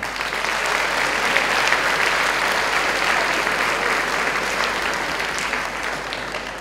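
Warm, sustained applause from an audience at a 2017 graduation ceremony of Pôle Léonard de Vinci, a dense, even wash of clapping that holds steady for several seconds without speech.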